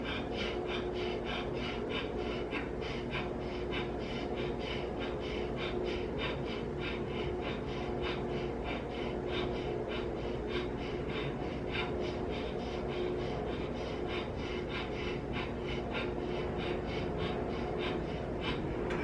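Forceful, rapid breath-of-fire style breathing, a set of 36 strong breaths, pulses in a steady, continuous rhythm of close, rasping huffs with no talking.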